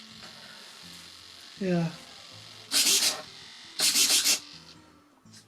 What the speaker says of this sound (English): Chatty old servos.